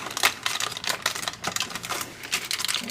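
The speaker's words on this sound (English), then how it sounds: "Peel off the aluminum foil." Aluminum foil is peeled off a cheesecake brownie slab with jam marbling, giving a run of close, crisp crinkling and tearing bursts that continue steadily for a few seconds without speech.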